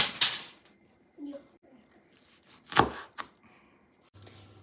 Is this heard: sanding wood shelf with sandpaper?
no